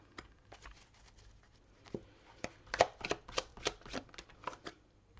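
Tarot cards are shuffled by hand at close range, a series of soft riffling flutters and taps that build in the second half, quiet with no talk over them.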